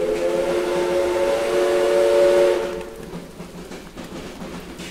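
A steam locomotive whistle blows long and loud for a few seconds in an audio drama scene, then cuts off, leaving the softer rumble and clatter of a rolling train.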